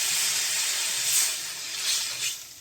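Water poured into a hot pan of spiced potato and eggplant curry, a steady broadband hiss and sizzle with a few brief swells of steam, moderately close with no talking.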